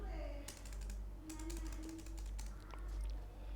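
Keys on a computer keyboard clatter in quick, irregular clicks as code is deleted, fairly quiet and close over a low background hum.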